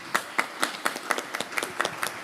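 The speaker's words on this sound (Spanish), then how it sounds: "Aplausos, por favor." Sparse applause at a mining technology presentation: a small audience claps in distinct, evenly spaced sharp claps, fairly faint and slightly distant, with no talking over it.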